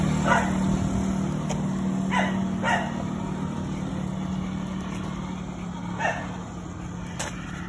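Several dogs bark intermittently at a distance in a market area in Lopburi, scattered yaps over a steady engine hum and background noise.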